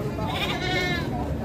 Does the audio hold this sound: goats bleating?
yes